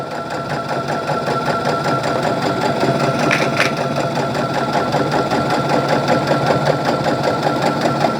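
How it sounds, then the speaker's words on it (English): A sewing machine runs a continuous straight stitch on a zipper bag, a steady, close, rapid mechanical whirring and ticking that stays even from start to finish. "put your manual presser down, and then continue on with your straight stitch"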